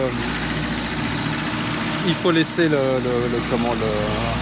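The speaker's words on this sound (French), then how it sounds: "idling, le ralenti haut pendant un petit moment" A Franco-Portuguese 4x4 engine idles high while warming up after glow-plug preheating, a steady close mechanical hum with brief voices talking over it partway through.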